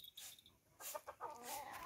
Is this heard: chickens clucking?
yes